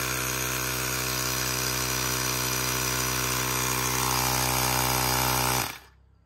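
An electric air compressor or pump inflating the tires of a 1968 International Harvester Cadet 60 lawn tractor, a steady loud motor whine running about five seconds before abruptly cutting off.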